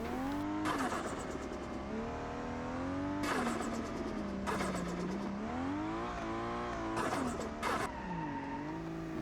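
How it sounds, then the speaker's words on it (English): Turbocharged Ford Falcon drifting, its engine repeatedly revving up and easing off in loud rising and falling sweeps, with bursts of tyre squeal and turbo whoosh between the revs. "the turbo noises are quite nice, and I'll just let you hear that"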